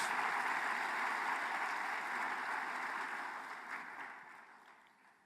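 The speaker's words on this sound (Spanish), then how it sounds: "Denle un aplauso al Dios glorioso que está entre nosotros" Church congregation applauding during a Spanish-language sermon, a dense even roar of clapping that holds steady and then gradually fades out toward the end.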